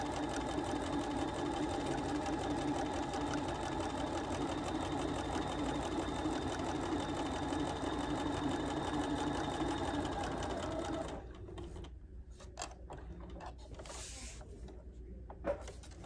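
A sewing machine stitching fabric runs in a fast, steady mechanical whir for about eleven seconds, then stops, leaving faint rustling and handling noises at a quiet level.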